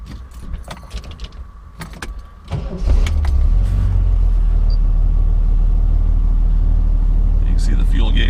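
A 1968 Triumph TR250 engine cranks and catches after a brief jingle of keys, then settles into a steady, loud, close idle rumble that holds to the end.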